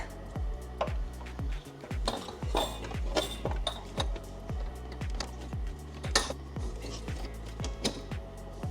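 Hose clamps on a BMW G87 M2 AWE intake being tightened, a close run of quick metallic ratcheting clicks in steady bursts with small clinks between them.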